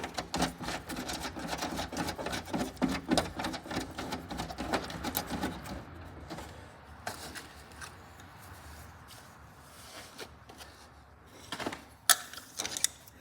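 Ratcheting wrench tightening nuts on a Cub Cadet 2086 lawn tractor fender, a fast steady clicking for several seconds, then quieter scattered clicks and a couple of sharper knocks near the end.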